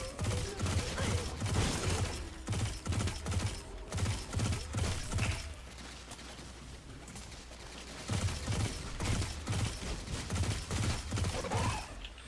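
A pulse rifle fires in the video game Destiny 2, sending out rapid, evenly spaced bursts of punchy shots in two long runs separated by a short lull.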